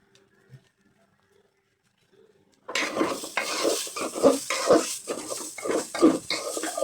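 After a few quiet seconds, a loud burst of sizzling starts, with repeated scraping strokes of a spatula stirring polao rice frying in a pan.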